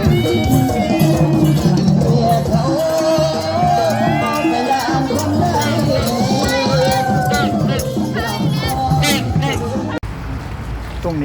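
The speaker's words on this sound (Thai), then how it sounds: "กองเชียร์ข้างสนามด้วย" Roadside spectators cheer runners at a marathon in Khon Kaen: a loud, continuous crowd of shouting and whooping voices close by, mixed with general babble.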